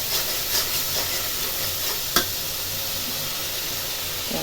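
Shrimp fry in a spice paste in a hot pan, with a continuous close hiss and sizzle and occasional stirring scrapes, including one sharp clack.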